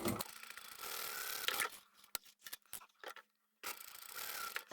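A sewing machine stitches a fluffy fabric bag in short close runs, its rapid mechanical whir broken by pauses and a few light clicks and handling noises.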